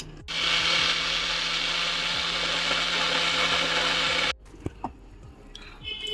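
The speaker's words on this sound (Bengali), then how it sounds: "এবার এটাকে ভালো করে ব্লেন্ড করে নেব" A blender whirs loudly and steadily for about four seconds blending a sandesh mixture with ghee, then cuts off abruptly, followed by a few light clicks and knocks.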